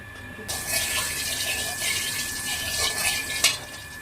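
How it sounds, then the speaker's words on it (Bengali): Tap water running into a kitchen sink while cauliflower is being washed, a steady close splashing rush with brief stirring of water, faint background voices underneath. "কপি ধোয়া"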